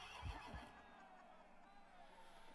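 A horse neighs loudly in the video game PaperKnight, a short whinny near the start with a couple of hoof-like thumps, followed by a lingering game background.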